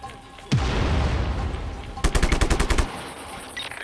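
Gunfire in the Just Cause video game: a single loud shot rings out, then a rapid, evenly spaced machine-gun burst of about a dozen close rounds follows.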